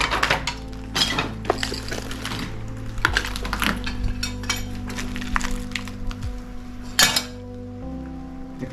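Broken window glass clinking in a ruined, roofless school canteen with cracked concrete-block walls on an abandoned island, a run of sharp irregular clinks and crunches close by over a steady low hum, with no talk.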